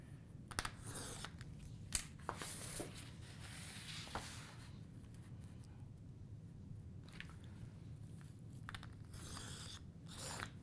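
Quiet, irregular clicks and ratcheting scrapes from a tool cutting and scoring lines on a paper box template, with a low steady hum underneath.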